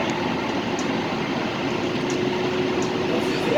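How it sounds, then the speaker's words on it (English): An LA Metro A Line light rail train rides through downtown Los Angeles near Little Tokyo, a steady interior rumble and hum with faint periodic clicks, no talking. "This is the Metro A line train."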